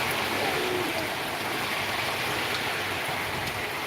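Rain pours steadily by a bus shelter, a dense, even hiss of drops striking nearby surfaces, close and constant throughout with no talk over it.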